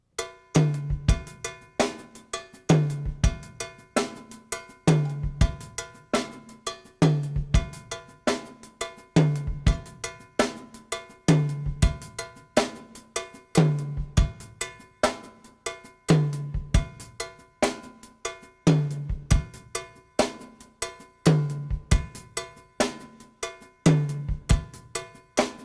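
A drum groove in a funk style, played as the backing pattern behind a conga solo, repeats steadily with crisp accented hits in a cowbell-like bright tone, close and loud with no talking.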